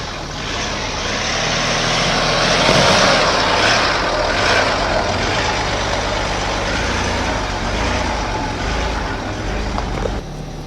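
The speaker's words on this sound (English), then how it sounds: "the diesel motor has most of its torque kicking around 1900 revs, means it's ideally suited for just crawling around off-road." A low, steady diesel engine drone rumbles continuously with broadband mechanical noise, a Land Rover Discovery 3 crawling slowly off-road nearby.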